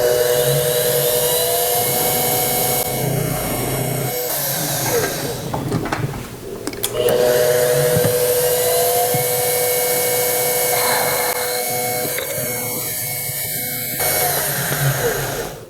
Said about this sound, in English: So I'm going to pre-drill and then a number 20 tap drill.